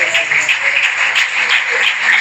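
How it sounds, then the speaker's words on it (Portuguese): A church congregation in São Gonçalo do Pará, MG claps together in praise during a worship service, a steady, dense wash of handclaps that holds evenly throughout, with faint tonal sounds underneath. "batem palmas para a glorificação do nome do Senhor"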